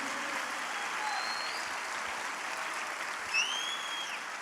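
A church congregation applauds in praise during a bilingual sermon, a steady wash of clapping with a few faint whistles or shouts rising over it.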